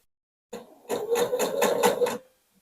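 Domestic sewing machine stitching close to the edges of a fabric caddy pocket, a short start then a steady run of rapid rhythmic stitching for about a second and a half, close and clear with no talk.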